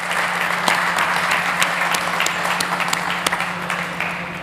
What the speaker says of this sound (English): Ladies and gents, a huge round of applause, please, for Batu-chan Özkan from Syntonym.